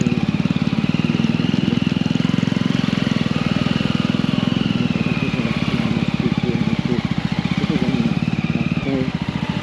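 A motorcycle engine throbs steadily and loud on the road, its rapid pulsing firing rhythm continuous throughout with a faint wind rush above it.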